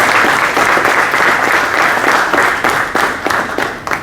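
An audience at a consulting conclave at XLRI Jamshedpur gives a panelist a loud, full round of applause, dense at first and thinning slightly toward the end, with a few distinct claps.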